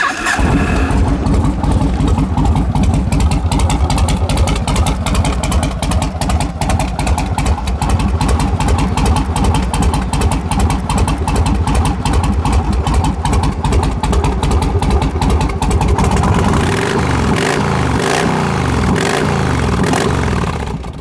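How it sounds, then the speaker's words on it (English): A 2006 Yamaha Road Star motorcycle engine runs steadily at close range with a loud, continuous low pulsing idle, and the tone shifts slightly near the end. "Bike runs good, guys. Like I said, 2006 Yamaha Roadstar."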